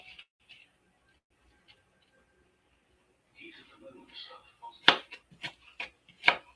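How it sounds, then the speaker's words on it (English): Knife chopping onions on a cutting board, several sharp irregular taps toward the end after quiet kitchen sounds and murmured talk. "I'm cutting up these onions."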